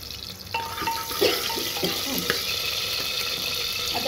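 Chopped onions hit hot oil in a pan for chicken curry and sizzle, with a sharp crackle as they go in and then steady frying mixed with stirring and clinks of utensils.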